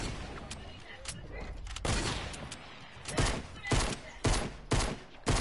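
Rapid bursts of gunfire from a shooting video game, several sharp loud volleys in close succession, with faint talk in the background.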